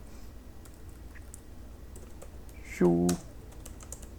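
Typing on a computer keyboard: faint, quick key clicks continuing through most of the clip, with a short tonal chirp and a brief spoken word near the end.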